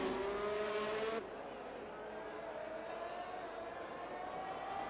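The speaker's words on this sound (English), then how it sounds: "McLaren is flying around this track into the swimming pool" Engine of a McLaren F1 car in a racing video game lapping Monaco, a steady high-pitched whine that shifts pitch with gear changes and continues throughout at moderate level.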